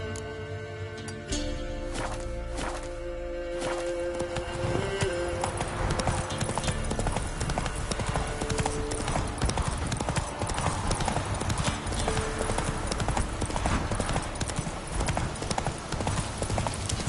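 Roach, the horse in The Witcher 3, galloping with rapid rhythmic clip-clop hoofbeats, loud and continuous, with game music early on and a whinny amid the bustle.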